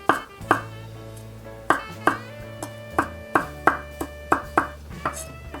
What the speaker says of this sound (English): Some parsley, and the parsley rough chop.